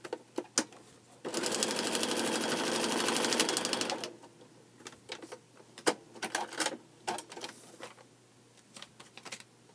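A sewing machine stitches a quilt block for the Paradox Point quilt: a steady mechanical whir runs for about three seconds, followed by scattered clicks and clatters of handling, fairly quiet and close.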